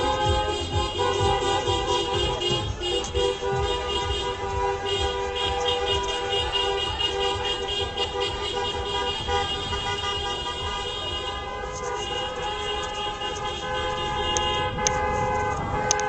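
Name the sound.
taxis honking while circling Place de la République, Paris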